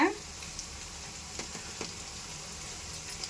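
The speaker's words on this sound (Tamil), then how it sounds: "வெங்காயத்தை இந்த மாதிரி வதக்கிட்டா இஞ்சி பூண்டு போடலாங்க" Onions with ginger and garlic sautéing in a pan for prawn vermicelli, a steady soft sizzle with a few faint scrapes of stirring, close and fairly quiet throughout.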